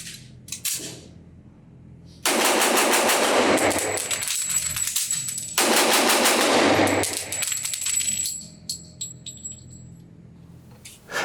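Rapid strings of shots from a Sig Sauer P227 Tactical double-stack .45 ACP pistol at a range, two long loud bursts of fast fire separated by a pause and a few scattered clicks and clacks around them.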